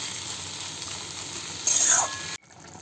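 Vegetables and spices sizzle steadily in a pan for an authentic Bengali mixed-vegetable dish, a continuous close frying hiss that swells briefly as the food is stirred, then cuts off sharply near the end.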